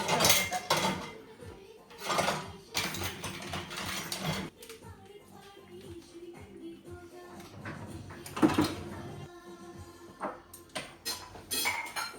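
Dishes clink and clatter in bursts as unrinsed dishes are loaded into a dishwasher rack, with scraping, sliding sounds between the louder knocks.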